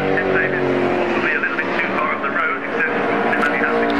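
A BMW 1800 historic saloon race car roars past during a Brands Hatch race, its loud engine note rising and falling as it goes by, with a commentator talking over it.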